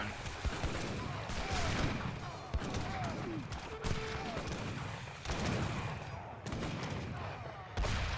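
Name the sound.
gunfire and fixed gun in battle, video game Age of Empires III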